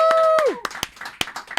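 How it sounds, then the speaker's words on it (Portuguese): A few scattered hand claps in a small studio greet podcast guest Pedro Superti. They come as sparse, separate sharp slaps right after a voice finishes speaking. "palmas para Pedro Superti"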